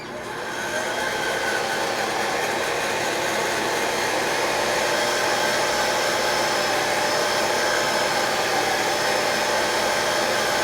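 A hair dryer blowing on a model mask, a loud unbroken airy roar that starts at once and holds steady and close throughout, with no talking.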